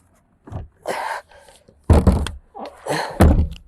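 The rear seat of an Opel Zafira seven-seater folds down on its hinges after its handle is pressed, giving several heavy thunks and knocks, some close and loud, with brief clicks between.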